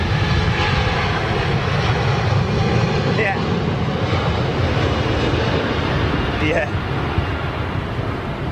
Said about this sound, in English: nice big spool up from that BA Dreamer